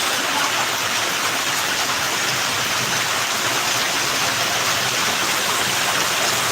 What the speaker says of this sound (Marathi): हा पाऊस